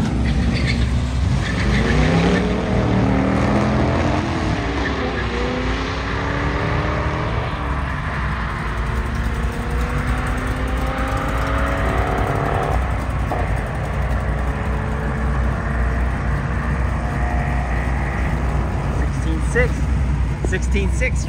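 A Camaro and a Corvette race at Bandimere Speedway, with loud engines revving and shifting through gears. Continuous crowd noise and chatter run over it.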